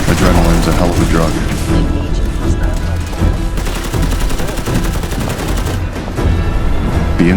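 Dense, continuous gunfire from the video game Fallout 4 during a front-line battle, with loud overlapping shots and booms that fill the whole stretch, played over game music and ambience.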